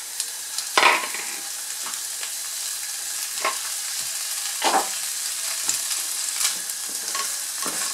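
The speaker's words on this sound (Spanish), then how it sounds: "dejar que se poche nuestro sofrito con un poco de sal" Sofrito sizzles steadily in a pan, with a loud continuous fry and periodic scraping of a spoon stirring it, all close up and without talk.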